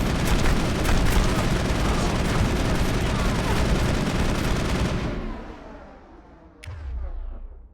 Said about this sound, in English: I want to shoot at commandos